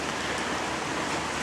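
Steady rain falls in a continuous, even hiss, close and fairly loud, with no voices over it.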